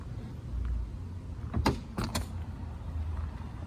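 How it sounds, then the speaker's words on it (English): On a Porsche Boxster S, the trunk lid soft-closes with a few quiet motorized whirs and soft latch clicks, close up over a low background hum. "Now every trunk on the Porsche, you have to like soft close it."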